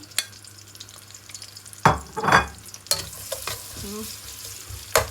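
Onions, ground spices, chicken stock, salt, garlic and ginger stir-fried in a pan for Somali rice, steady sizzling with loud bursts as the spoon scrapes and stirs, close and continuous.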